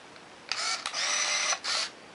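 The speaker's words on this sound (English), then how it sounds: "I saw the shutter blades open and close" An Olympus Infinity Stylus compact film camera whirs and clicks as its lens motor drives and the shutter fires, a close sequence of short mechanical buzzing bursts with a brief gap between them.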